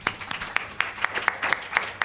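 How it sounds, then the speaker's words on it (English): Audience applause for a panel at a politics and media event, a burst of fairly sparse clapping with distinct sharp claps standing out over a soft background for about two seconds. "Round of applause."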